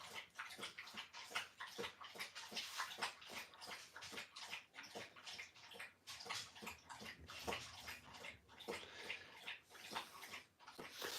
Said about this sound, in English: Yep, that's the dog drinking water.